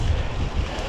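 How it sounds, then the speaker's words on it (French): Strong headwind during Storm Ciaran buffets a mountain biker's microphone, a loud continuous rumbling roar of wind noise with no pauses. "avec le vent plein face"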